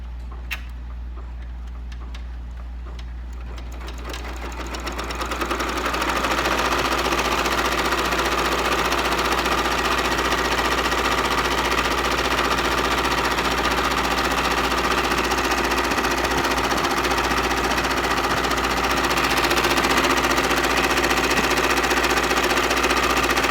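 A Brother PRS100 embroidery machine runs a quick straight-stitch trace for an appliqué, starting after a few quiet seconds, then a loud, steady, fast mechanical ticking and whirring that continues close up to the end.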